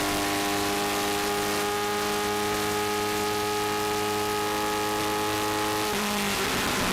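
A vintage race car at Mosport runs flat out in 4th gear, a loud, sustained engine drone holding a steady pitch for several seconds before the note drops near the end, with no talk.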